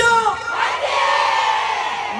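A crowd at an outdoor event at Changnam Elementary School in Geochang, during a trot singer's performance, shouts a loud unison cheer that bursts out together and holds for about two seconds with no separate talking.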